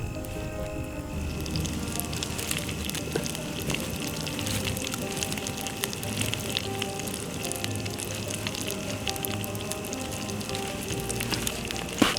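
A campfire burning at a snowy winter camp with a summer tent, a steady dense crackle and hiss with scattered sharp pops, close and continuous, with no talk.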